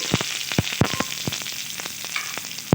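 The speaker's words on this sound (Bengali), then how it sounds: "এবার ওই তেলে দিয়ে দিচ্ছি কিছুটা পরিমাণ কালো জিরে ফোড়ন সামান্য পরিমাণ পেঁয়াজ কুচি" Nigella seeds and chopped onion fry in hot oil for a beet mash, a steady sizzle broken by several sharp, close clicks and scrapes of a spoon against the pan.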